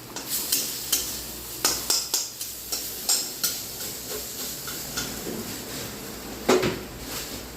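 Beetroot curry cooks in a pan with a soft continuous sizzle, broken by a regular series of clinking stirs and scrapes from a spoon against the pan, fairly close and moderately quiet, no voices.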